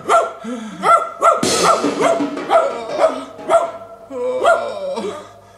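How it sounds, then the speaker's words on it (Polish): A dog in an animated musical fairy tale barks repeatedly, loud and close, in a rapid uneven series of sharp yaps with short gaps, over a busy background of music or effects. "Co to może być? Pies!"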